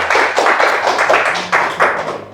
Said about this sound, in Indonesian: Tepuk tangan lu buat Pak Iskandar dong.